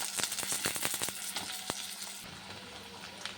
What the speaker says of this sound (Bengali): আগে আলুটা একটু ভেজে নিই